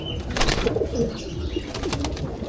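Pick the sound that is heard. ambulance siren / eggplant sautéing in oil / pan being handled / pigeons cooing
pigeons cooing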